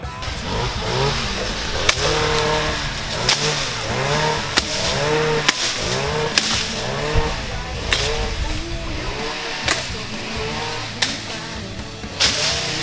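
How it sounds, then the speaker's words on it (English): Two-stroke chainsaw engines snarl and rev loudly and continuously, echoing through a valley in New Zealand, pitch rising and falling as they cut, with sharp knocks and clanks punctuating the drone. "the sound of tapped out 2-stroke chainsaws echoed through the valley"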